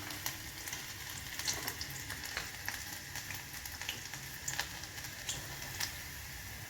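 Cumin seeds, garlic and asafoetida sizzling in hot oil while cooking bharela bhinda, a steady quiet frying hiss with small scattered crackles and pops throughout.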